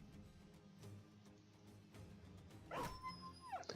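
A dog in the Battle Brothers video game lets out a sharp, whining whimper near the end, rising then sliding down in a drawn tone over low game ambience, with a brief yelp after.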